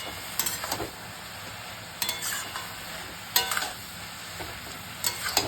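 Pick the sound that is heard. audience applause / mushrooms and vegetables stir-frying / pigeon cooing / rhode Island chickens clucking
mushrooms and vegetables stir-frying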